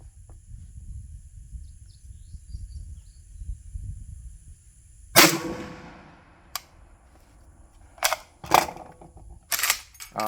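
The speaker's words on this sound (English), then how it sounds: "We'll shoot this last shot up." PSL rifle firing a cast bullet at an outdoor range, one loud sharp report followed by metallic clicks and handling noises of the action, with low rumbling and insect buzz beforehand.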